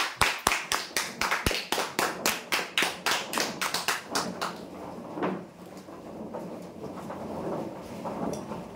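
Hands clap in a slow, regular beat for prize winners at a lucky draw, loud sharp claps at first, then dissolving into fainter scattered applause and background murmur.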